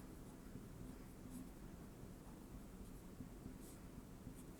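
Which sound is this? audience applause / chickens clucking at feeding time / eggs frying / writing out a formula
writing out a formula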